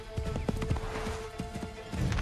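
Horse hooves clip-clop in the Assassin's Creed 3 video game, a steady run of close, distinct hoofbeats with a brief whinny-like tone, standing alone without speech.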